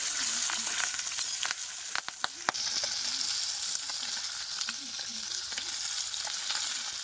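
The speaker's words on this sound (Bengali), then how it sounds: "শিঙি মাছ যেহেতু অনেকগুলোই টুকরো করা ছিল, আর ভাজতে তো অনেকটা সময়ই লাগবে" Cut pieces of stinging catfish (shingi) fry in hot oil in a home kitchen. A close, continuous sizzle runs throughout, broken by sharp pops and spatters and a few scraping stirs, with no talk.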